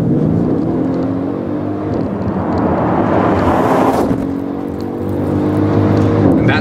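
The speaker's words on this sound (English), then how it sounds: "when you're sitting in an AMG, why would you not try out the 557 horsepower of this beast?" A 557-horsepower Mercedes ML 63 AMG engine roars loudly as the car accelerates, the pitch climbing steadily before a brief dip at a gear change and then rising again, heard from inside the cabin with no talk.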